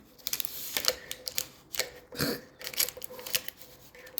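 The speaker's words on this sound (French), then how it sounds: "Attendez, j'ai des ciseaux. Ciseaux. On va couper." Scissors snip and crunch through plastic toothbrush blister packaging, a quick series of close, irregular cutting clicks and crackles with short pauses between them.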